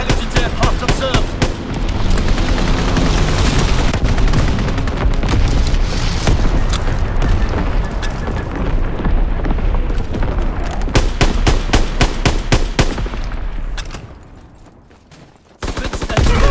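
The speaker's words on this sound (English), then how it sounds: "Incoming enemy artillery, get to cover." Incoming enemy artillery in Call of Duty WW2, a dense barrage of loud booms and rapid gunfire explosions pounding almost without pause before briefly easing near the end.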